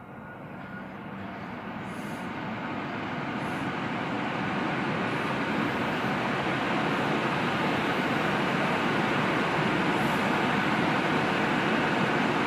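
An AirPura R600 HEPA and carbon air purifier runs on its high setting, giving a steady broadband whooshing roar that swells slightly over the first few seconds and then holds constant, with no talking.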